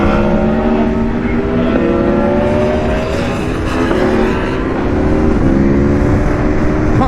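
An Aprilia RSV4 Factory 1100 sport motorcycle engine (2021) pulls hard under acceleration, a loud, continuous, rising high-revving roar close by with gear-change dips, no talk over it.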